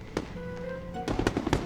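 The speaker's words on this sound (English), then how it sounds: "That's definitely fireworks." Fireworks going off in a video game quest scene: a sharp pop, then a rapid cluster of crackling bursts, moderately near over a soft electronic tone, with no talking.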